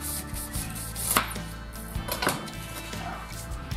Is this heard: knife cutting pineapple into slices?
yes